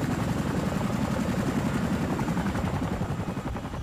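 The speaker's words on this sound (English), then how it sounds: "A key feature of Arctic Chinook operations is its tandem rotor configuration, delivering exceptional stability and lift even at high altitudes." A Chinook tandem-rotor helicopter gives a loud, steady, rapid rotor chop with a dense engine roar that holds throughout the short stretch.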